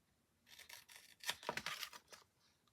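Scissors snipping away excess card while making a floating Christmas card with an acetate front: a quick run of close, faint crisp cuts and rustles, heard alone.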